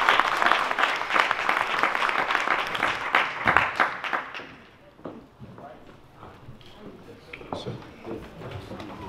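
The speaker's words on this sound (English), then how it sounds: "Please give her a round of applause." Audience applause at a Ghanaian community event in Amsterdam welcoming Ghana's ambassador, a few seconds of moderate clapping that fades into scattered claps and crowd murmur.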